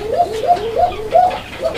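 A single pigeon gives close, repeated throaty coos, about five rising pulses in quick rhythm against a quiet background.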